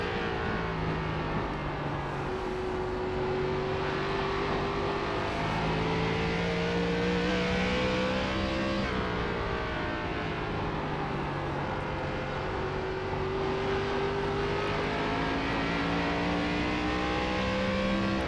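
A race car engine in iRacing on the Nashville Fairgrounds oval, held at a steady high drone with gear changes and slowly rising and falling pitch as throttle is fed in through the corners, loud and continuous with no talk.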